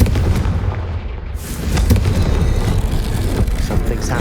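A Confringo fire spell bursts in a Harry Potter video game: a loud, sudden blast about a second in, swelling into a dense, roaring rumble that carries on to the end.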